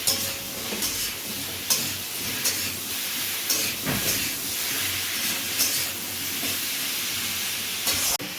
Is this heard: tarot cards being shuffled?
no